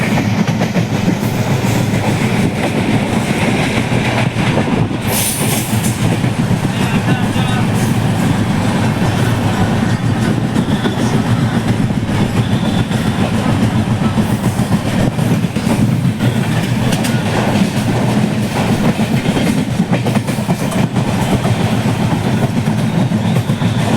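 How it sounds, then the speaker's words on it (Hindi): The Kamakhya Express passenger train running on rails, a loud continuous rumble with steady clickety-clack from the wheels heard from on board, and a brief higher screech near the start. "हमने अपनी यात्रा शुरू की कामाख्या एक्सप्रेस से"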